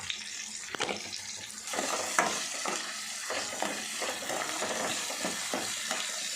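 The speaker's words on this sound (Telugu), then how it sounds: "కొన్ని పచ్చిమిర్చి ఇట్లా కలుపుకోవాలి" Onions and green chillies fry in a pan for leafy greens dal (thotakura pappu), a steady close sizzle with repeated scraping stirs of a spoon against the pan.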